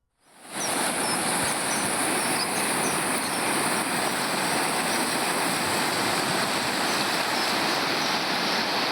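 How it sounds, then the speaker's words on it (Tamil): Flash flood water roars down a hill stream in Tamil Nadu after heavy rain. The rush is steady, loud and unbroken, and no voices are heard. "கருகேகண்டி ஓடையில் காட்டாற்று வெள்ளம் ஏற்பட்டு போக்குவரத்து தடைபட்டிருக்கிறது"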